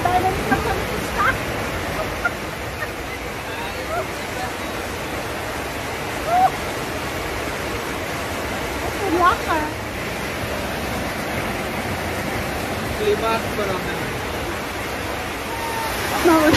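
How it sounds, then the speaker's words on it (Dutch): Heavy rain pours down at Pasar Mardika market in Ambon, Maluku, a dense, continuous hiss with faint drips and small sounds scattered through it. "Het is zo hard aan het regenen."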